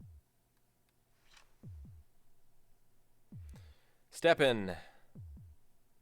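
A heartbeat sound effect from a Rick and Morty pinball table thumps in low, soft double beats, paired lub-dub pulses repeating at a steady pace, with a brief spoken voice breaking in midway.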